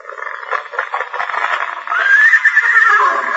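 A horse in a radio drama neighs loudly and close: a rising, quavering whinny that holds for over a second after some breathy snorting and shuffling.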